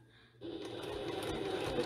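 Sewing machine stitching piping onto a bag panel, starting after a brief quiet moment and then running as a steady, moderately loud mechanical hum with rapid needle chatter, close to the microphone.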